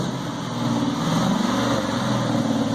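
A car engine with a newly installed exhaust runs close by with a steady, buzzy drone and a slight rise in revs, loud and continuous with no talking.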